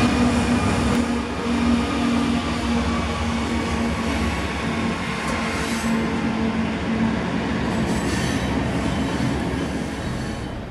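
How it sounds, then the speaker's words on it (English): A long BNSF intermodal freight train departs toward a Kansas City rail yard, its cars rolling past in a steady, continuous rumble. Faint wheel squeal rises and falls through the passage, and no one speaks. "The stop intermodal finally departs for the yard."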